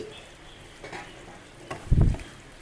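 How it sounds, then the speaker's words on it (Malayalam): Curry cooks in a pan, a tomato-based curry served with chapati. Quiet sizzling is broken by a few stirring clatters and a louder frying burst near the end. "ഇതാ വെന്തും കൊണ്ടിരിക്കുകയാണ് നമ്മളെ കറി"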